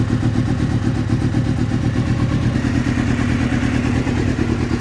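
A Suzuki GSXR750 motorcycle with a cylinder that will not fire churns over steadily as the starter cranks the engine, giving a loud, continuous mechanical rhythm with no sign of the engine catching and running.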